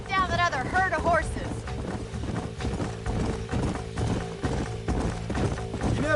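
Hooves of horses clip-clopping in Red Dead Redemption, a steady rhythmic trot under a low droning musical bed, with a brief neigh-like call near the start.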